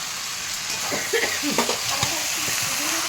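Spice paste sautés in a pan for sukto, a close, steady sizzle broken by scraping stirs, with a faint voice briefly audible underneath.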